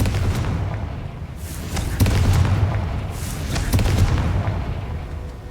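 Confringo fire spell bursting in Hogwarts Legacy, a run of booming blasts with dull thuds at the start and around two and four seconds, loud over a low rumbling game backdrop.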